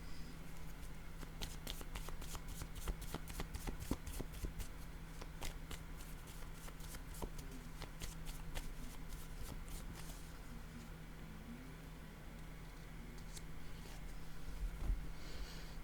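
A deck of playing cards is shuffled in a card-reading session, a rapid run of crisp riffling clicks over the first half, then softer handling noise against a steady low hum, with no voices.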